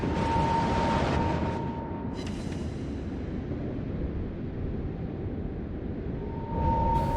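Warship guns firing in World of Warships, a heavy booming blast followed by a long rumbling roar that fades slowly, with another loud swell near the end; no voices.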